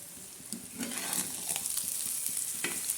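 Egg bhurji sizzles and crackles steadily in a hot pan, with soft scraping and stirring taps over the continuous fry.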